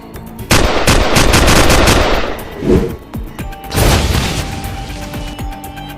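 Gunfire in a comic audio drama: a loud sustained burst of rapid shots, then scattered single shots and a second burst, close and dominant.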